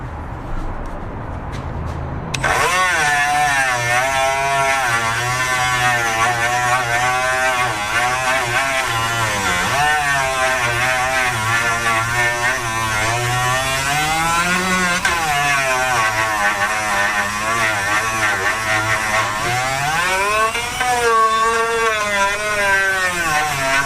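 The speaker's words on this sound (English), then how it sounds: "still got to grind that hole bigger" A power grinder enlarging a hole in a Singer 15-91 sewing machine cabinet, starting after a brief pause and then whining loudly and continuously up close, its pitch wavering as the load changes.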